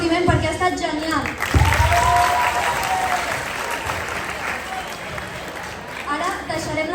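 Loud, dense applause and cheering from a school ceremony audience after a dance, with a presenter's voice over the start and again near the close as the clapping carries on underneath.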